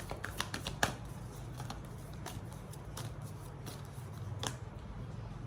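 Tarot cards are shuffled and drawn by hand, with soft riffling and light flicks and taps coming in short bursts. The sound is close but faint against a quiet room.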